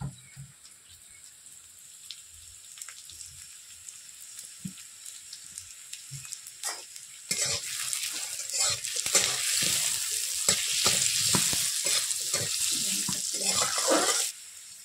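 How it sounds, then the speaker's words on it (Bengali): Potatoes with turmeric frying in a pan, faint soft scraping at first, then a loud continuous sizzle with rhythmic stirring scrapes that stops abruptly near the end. "আলুটি আমার বেশ ভালোভাবে কষানো হয়ে গেছে।"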